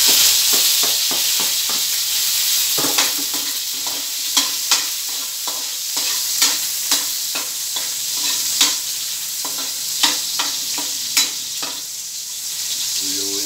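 Garlic sizzling in hot oil for garlic fried rice, a steady loud frying hiss punctuated by repeated scraping clinks of a spatula stirring in the pan, close up with no talk.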